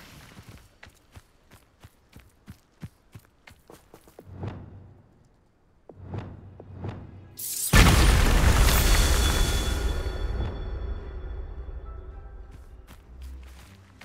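A Bombarda spell explosion in Hogwarts Legacy on PS5: a sudden loud booming blast with a long rumbling decay, after a stretch of soft footsteps and a couple of smaller whooshing bursts.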